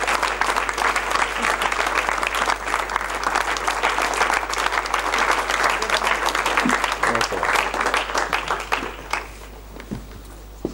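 A large church congregation applauds loudly and continuously for about nine seconds, welcoming a pastor, then the clapping tapers off.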